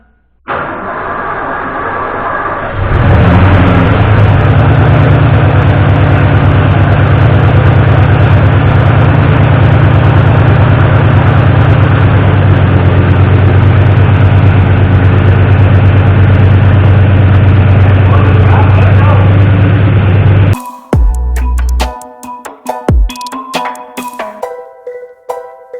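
A salvaged engine in an '88 Ford F-150 cranks and catches, then runs at a loud, steady idle for nearly twenty seconds before cutting off abruptly, followed by scattered clunks and clicks.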